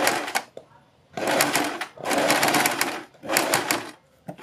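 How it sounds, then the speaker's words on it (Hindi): A sewing machine stitches along a fabric neckline in three bursts of rapid mechanical chatter, separated by short pauses, close and fairly loud. "इसके ऊपर सिलाई लगाते हुए दूसरी साइड आने से थोड़ा सा पहले हम अपनी दूसरी पट्टी को रख लेंगे"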